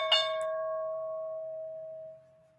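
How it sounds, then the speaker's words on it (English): A stock market opening bell rings once on a live trading stream, a single clear metallic strike that hums on and slowly fades over about two seconds, with no talk over it. "There's the opening bell."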